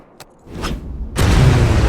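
An explosion in the action game Devil May Cry: Peak of Combat bursts in loud and sustained after a few faint thuds, filling the rest of the moment with a heavy rumble.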